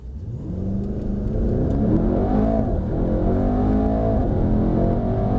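Mercedes-AMG E63 S Estate accelerating at full throttle from inside the cabin, a deep engine roar building quickly and holding loud with climbing revs and shifting harmonics.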